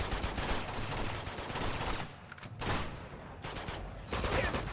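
Dense gunfire from the Uncharted video game erupts in rapid bursts and volleys, dipping briefly between barrages before resuming loudly.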